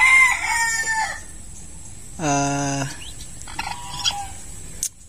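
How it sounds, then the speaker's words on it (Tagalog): Newly hatched turkey chicks peep in thin, high, repeated calls, with a lower fowl call cutting through midway, heard close with no one talking. "Ito na yata ang pinaka-cute na sisiw na nakita ko."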